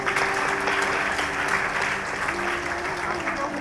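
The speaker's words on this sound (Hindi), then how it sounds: "प्लीज जोरदार तालियां।" Loud audience applause at a school prize-giving during an Independence Day cultural program at a girls' college, continuous clapping from a large crowd with a faint steady hum beneath and voices mixed in.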